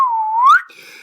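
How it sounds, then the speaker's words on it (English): Penny whistle taunt from the video game Peekaboo, a single loud close whistle that glides down, rises sharply, then ends in a brief steady tone. "or there's like a penny whistle"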